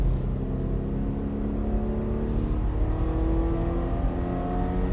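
A race car accelerates around the Hallett circuit during an SCCA time trial, its engine note climbing steadily in a loud, sustained whine heard from the cockpit with no talk over it.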